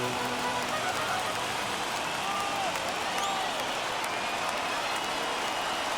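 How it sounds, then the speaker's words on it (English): A steady, distant roar of a large crowd fills the whole stretch, an even hiss-like wash of cheering with no clear voices, from a stadium in an MLB baseball video game during a late rally. "listen to this crowd now. They are really into this"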